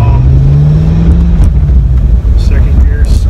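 A 2003 C5 Corvette Z06 with a six-speed manual holds a loud, steady engine drone that rises slightly in pitch as it pulls through first gear, close and continuous, with someone talking over it.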